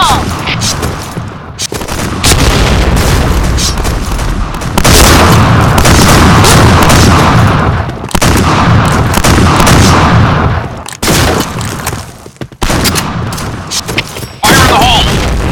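Loud bursts of grenade blasts and shotgun fire from the shooter game Point Blank, repeated booms and shots coming in dense waves across the whole stretch, with a voice callout over the action.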